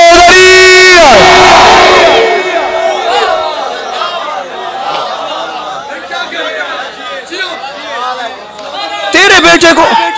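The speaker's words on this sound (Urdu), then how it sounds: "سارے بولو مل کے نعرے" At a religious gathering a congregation raises a slogan together, starting with a loud unison shout that fades into a sustained murmur of many voices, then another strong burst at the end, with someone speaking over it.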